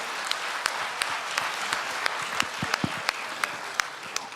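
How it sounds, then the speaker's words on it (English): Steady audience applause for Helen at a blockchain conference, a continuous wash of many hands with a few sharper individual claps standing out, no talk over it. "round of applause for Helen"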